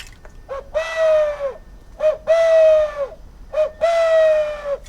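A wooden Chinese bird whistle gives three long owl-like hoots, each with a short lead-in note before a sustained, slightly falling tone, played close and clear with brief pauses between.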